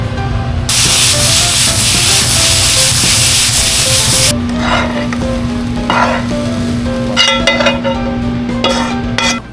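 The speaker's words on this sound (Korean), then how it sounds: "볶음밥 완성했습니다" Fried rice being stir-fried in a pan in a tonkatsu restaurant kitchen: a loud, dense sizzle for about four seconds, then scraping and clinking stir strokes over a softer, steady frying hiss.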